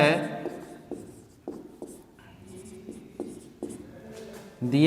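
Pen or marker writing on paper while a maths teacher works through a geometry exercise, with scratchy strokes and several sharp taps, some faint speech mixed in, fairly close.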